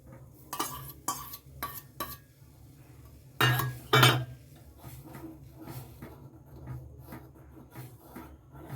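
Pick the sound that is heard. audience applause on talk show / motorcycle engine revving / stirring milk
stirring milk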